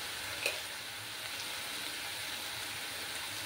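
Onion paste frying in a hot pan, a steady close sizzle with a faint spattering crackle near the start and no talk.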